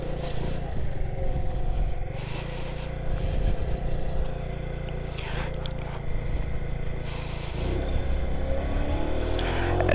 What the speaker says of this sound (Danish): Som man nok godt kan høre, så er det ikke en totakter det her, det er nemlig 4-takter.